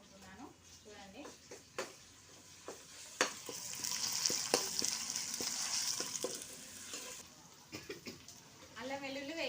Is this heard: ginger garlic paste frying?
yes